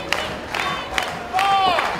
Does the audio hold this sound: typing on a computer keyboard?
no